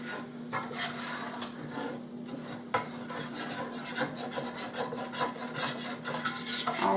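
A fork scrapes and stirs through flour-thickened gravy for hamburger steak with onions, working out lumps in quick, repeated rasping strokes at close range, fairly quiet with no talking.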